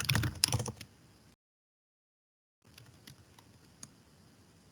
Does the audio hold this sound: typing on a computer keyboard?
yes